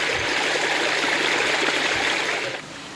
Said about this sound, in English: it all flows down into our recycling ponds